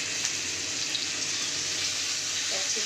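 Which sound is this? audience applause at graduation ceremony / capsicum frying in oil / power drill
capsicum frying in oil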